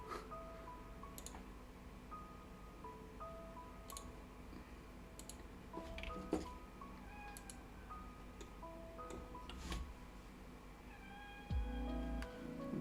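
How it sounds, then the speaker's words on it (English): A hungry cat gives several short, scattered meows, fairly faint, alongside intermittent computer keyboard clicks in a quiet room. "Okay, I think my cat is hungry, so I will give her food."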